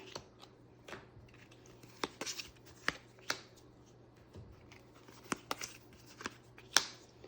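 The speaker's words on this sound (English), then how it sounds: "we're going to shuffle up each of the season decree cards and draw 1" Cards from the Kodama board game are shuffled by hand, a series of quiet crisp riffles and snapping flicks in irregular bursts, close and alone without talk.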